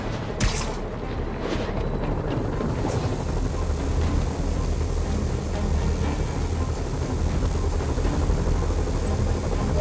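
A loud, continuous helicopter rotor roar in the video game Marvel's Spider-Man on PS4 fills the scene, with a couple of sharp whooshing bursts near the start.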